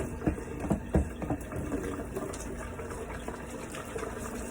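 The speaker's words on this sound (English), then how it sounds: "Let me wash my hands." Hands washed under a running kitchen tap while making hot rolls from scratch, a soft steady water flow with a few splashy bumps early on, fairly quiet and close.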